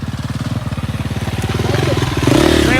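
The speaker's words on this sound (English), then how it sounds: "That beautiful KTM up there. He climbed up it like it was nothing." A KTM motorcycle engine revs in a rapid, pulsing rhythm as it climbs a hill, growing louder and rising in pitch toward the end. The sound is close and clear, with a faint voice in the background.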